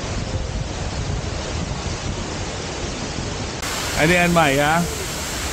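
Shiraito Falls near Mount Fuji roars as a constant broadband rush of falling water, loud and close with wind buffeting the microphone, while a person speaks briefly over it.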